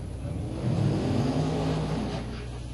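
Drag racing cars, a Corvette and a Chevy II, at a bracket race, heard as a steady low engine roar that swells and rises slightly in pitch, moderately distant, with no talk.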